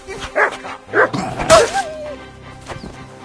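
Dog barks and yips in a few short bursts amid a busy, noisy scene with other sounds layered around them.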